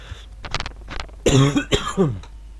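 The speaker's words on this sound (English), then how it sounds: "I cough so much on these things" A series of coughs, a few softer ones at first, then louder, harsher hacking coughs close to the microphone.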